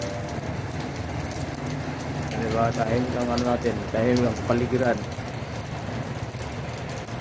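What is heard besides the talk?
continuous rain falling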